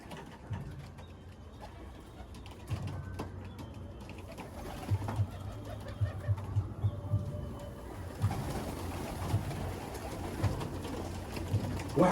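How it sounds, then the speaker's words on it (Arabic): Pigeons kept on a rooftop coo in low, soft, repeated throaty pulses, fairly close, with a scattering of clicks and outdoor background noise around them. "انا معايا حمام ياما، ومعايا حمام عليه سمم، ومعايا حمام ريشه بايظ"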